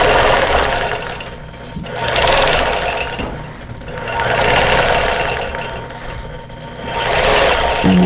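A sewing machine runs steadily and close, outline quilting a pillow cover made from a vintage quilt block, its rapid stitching rising and falling in long continuous stretches with brief slowdowns.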